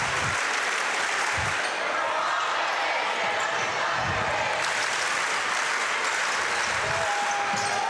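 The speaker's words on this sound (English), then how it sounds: "The Wildcat fans are cheering right now." Crowd of basketball fans at a Wildcats versus Wolves game, cheering and clapping in a loud continuous roar with a few thumping bounces underneath, and people talking through it.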